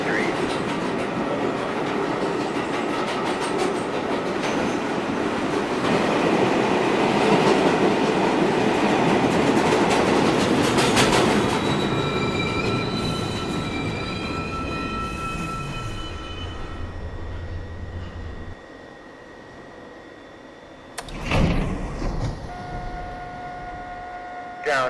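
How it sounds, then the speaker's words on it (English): An R62 New York subway 1 train runs on the downtown local, its loud rumble and clattering wheels filling the ride before it slows and quiets, with a faint squeal and a burst of noise near the end. "Downtown Local 1 train to Rose Street."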